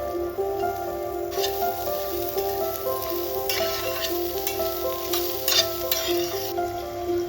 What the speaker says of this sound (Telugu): మసాలాలన్నీ బాగా వేగాక ఇందులోకి సన్నగా దరుపుకున్న ఉల్లిపాయ ముక్కల్ని యాడ్ చేసుకోండి